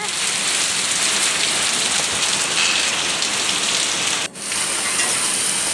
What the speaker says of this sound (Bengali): ভালোই লাগছে জোরে জোরে বৃষ্টি